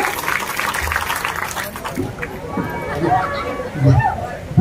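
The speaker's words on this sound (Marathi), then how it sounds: "त्यांच्यासाठी एकदा जोरदार टाळ्या वाजवा" An audience at a devotional bharud performance claps for a donor, brief applause mixed with crowd chatter and voices that fades into talk and murmur.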